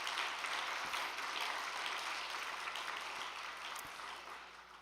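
Audience applause at a church gathering: a steady, dense wash of many hands clapping, heard at a distance and fairly faint, with no talking over it.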